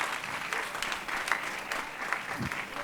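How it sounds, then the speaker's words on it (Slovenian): Steady applause from a crowd at a May Day festive concert in Opatje Selo, a dense patter of clapping held at a moderate level throughout, without any voices. "Še en velik aplavz tudi za dirigente"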